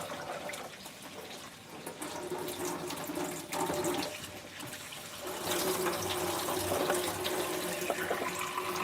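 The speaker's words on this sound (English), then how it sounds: "So I'm finish cut them up now. Rinse them off again." Freshly cut food rinsed under a running kitchen tap in a Jamaican home kitchen, a steady, close rush of water splashing into the sink that swells slightly in places and carries on for several seconds without talk.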